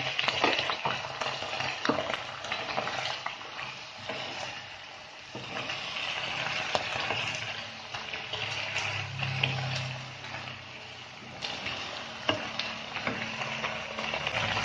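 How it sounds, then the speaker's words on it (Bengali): Fried fish pieces stirred into a pan with a little water for Bengali-style chilli fish, giving a steady close sizzle with stirring scrapes throughout and no voices. "এগুলো ফুটে গেল, আমি এই ভাজাগুলো দিয়ে দিচ্ছি।"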